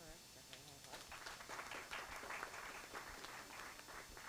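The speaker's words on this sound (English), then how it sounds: "so let's give her a hand clap." A school district board meeting audience clapping for a student's recognition, faint scattered applause rising then thinning, with chatter and voices mixed in at the start.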